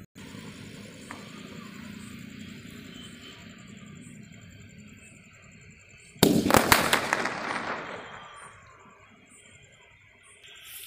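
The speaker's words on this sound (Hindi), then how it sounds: "सेवन शॉट को जलाते हैं।" A seven-shot Diwali firecracker is lit and fires, with a quiet fizzing lead-in, then a loud cluster of sharp rapid bangs and crackles for about two seconds that trails off into hissing.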